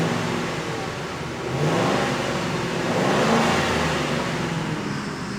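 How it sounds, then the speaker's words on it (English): Ford car engine revving in two broad swells, rising and falling in a loud, rough roar heard close by, with no talking over it. "We'll get a listen to this engine."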